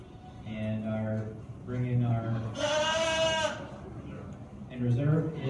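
Meat goats at a county fair show bleat loudly and repeatedly in long wavering calls, with a crowd and announcer audible around them.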